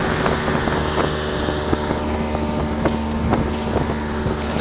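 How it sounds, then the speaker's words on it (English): A Yamaha 50 hp outboard motorboat engine drones steadily at planing speed on open water, with constant wind buffeting the microphone and water rushing beneath the hull. "Boat is planing,"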